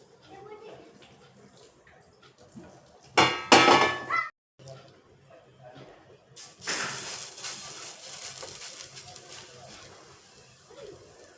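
A spoon scrapes and clinks in a pan on a gas stove, spreading about a spoonful of oil, with loud bursts of metallic scraping between quieter stretches.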